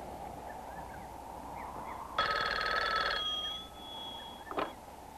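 A telephone bell rings once for about a second during a phone line check, a bright trilling burst over a steady low hum, followed by a faint chirp and a short click.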